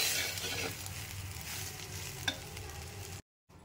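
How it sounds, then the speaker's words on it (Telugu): Raw mango rice being stirred and mixed in a pot, a continuous close scraping and shuffling with one sharp clink near the end before a brief cut to silence. "అంత బాగా కలుపుతామండి"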